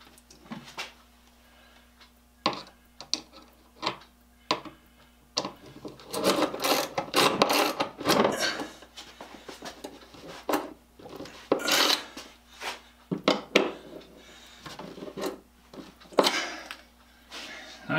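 A screwdriver drives screws while mounting a wooden saw till to a workshop wall, producing bursts of close clicking, ratcheting and scraping in irregular clusters with quiet pauses between.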